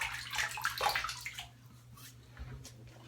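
Water splashes and drips close by as hands wet a face before shaving, with a short run of splashing followed by quieter trickles.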